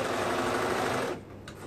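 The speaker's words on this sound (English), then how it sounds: "I'm just gonna sew the long outside edge, right sides together, using a 3/8 seam allowance." A sewing machine stitches the long outside edge of boys' mesh shorts, a steady close buzzing whir for about a second before it stops abruptly.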